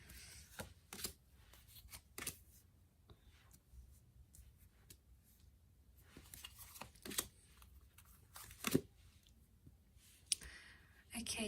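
Tarot cards are shuffled and handled at close range in bursts of crisp flicks and soft slaps, irregular and quiet, with pauses between.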